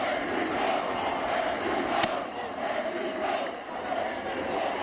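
Bleacher crowd at a baseball game roaring in a continuous, distant wash of cheering and chanting voices, steady throughout with no clear breaks.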